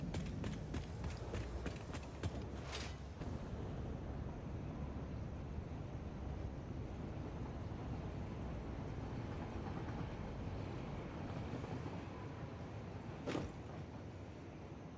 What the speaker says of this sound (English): I hear the train, so we can grab that.